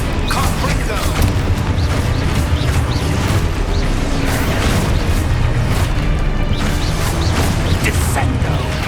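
Spell blasts from Confringo explosion magic in Hogwarts Legacy combat: loud, dense booming bursts and crashing impacts pile up continuously, with no quiet gaps between them.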